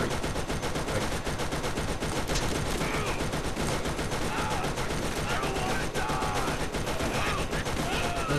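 Submachine gun fire in the video game Borderlands, a relentless rapid rattle of shots mixed with other weapon fire and impacts that continues without pause for the whole stretch.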